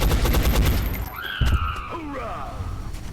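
A dense burst of rapid gunfire from the XCom Enemy Unknown video game opens loud and close, then gives way to whooshing, warbling sci-fi effects and a few fainter shots.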